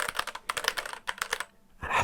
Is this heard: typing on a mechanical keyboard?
yes